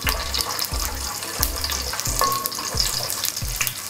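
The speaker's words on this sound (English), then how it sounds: "Then you fry them." Cumin seeds fry in hot oil with a continuous close sizzle, broken by regular knocks and scrapes of stirring. There is no talking.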